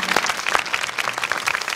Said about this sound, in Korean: 애써주신 우리 조나단께도 큰 박수 부탁드리겠습니다